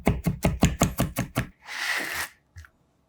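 A knife chops rapidly on a cutting board while whole garlic cloves are minced fine, about nine quick, even, close knocks followed by a brief scraping rustle and one last tap.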